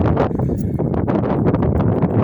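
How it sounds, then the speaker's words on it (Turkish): Heavy wind buffets the microphone, producing loud, continuous rumbling gusts and crackling bursts throughout. "rüzgar birazcık dursa videomuz mahvolmasa"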